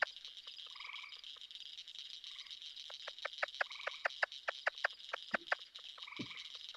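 Recorded frog chorus of cricket frogs and gray tree frogs: rapid clicking pulses in quick runs mixed with short trilled calls, fairly close and clear over a quiet background.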